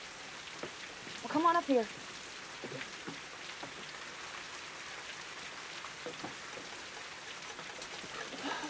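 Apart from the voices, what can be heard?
rain falling on a roof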